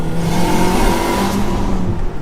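A tuned 500 bhp Honda Civic Type R engine revs hard close by, up to around 6,000 rpm, its steady high-pitched drone holding and wavering with no voices over it.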